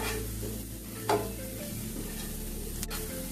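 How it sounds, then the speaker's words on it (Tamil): Mushrooms frying with salt and chili powder are stirred in a pan, a steady close sizzle running throughout with a brief louder scrape of the spoon near the start. "உப்பு, மிளகாத்தூள், மிளகாத்தூள் போட்டு நல்லா கிளறி விட்டுடலாம்."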